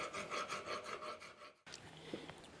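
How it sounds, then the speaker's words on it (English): A file rasps in steady repeated strokes against a metal bat wing bracket for a 1934 Ford coupe front suspension, close and rhythmic, pausing briefly before quieter scraping resumes. "So I got to do some filing on that one, a lot of filing."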